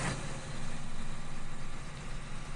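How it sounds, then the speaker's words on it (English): A loud tractor engine idles in the Farming Simulator 15 game with a steady, rumbling drone that stays constant throughout, and no one talks. "this particular tractor is like the loudest tractor"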